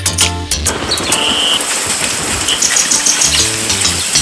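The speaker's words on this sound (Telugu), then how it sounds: "టపటపా చినుకులు పడుతున్నాయి" Rain falls in a dense, steady patter of drops, loud and continuous, with no voices over it.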